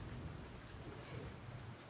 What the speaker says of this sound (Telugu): ఉరుముడు చూడు ఎట్లా ఉరుముతుంది.